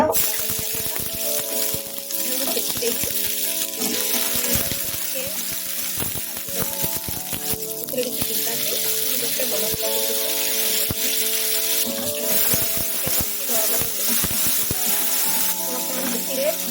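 Oil sizzles and bubbles in a pan with sugar and bay leaves in a home kitchen, a steady continuous frying hiss with clinks and stirring noises throughout, close and fairly loud.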